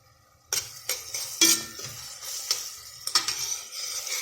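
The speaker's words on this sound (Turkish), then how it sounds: "Havuçları şöyle 2-3 dakika kadar yumuşayana kadar yani kavuruyorum" Diced carrots sautéing in a soup pot, with a soft sizzle under a series of distinct scraping and knocking strokes of a spoon against the pot, arriving in irregular bursts after a quiet start.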